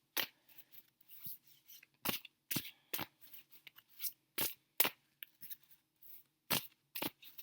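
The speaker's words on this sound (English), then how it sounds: "I'm going to pull some more cards here for you" Tarot cards are drawn and handled on a quiet table: a series of sharp, close papery snaps and flicks come at an irregular pace, with short silences between them.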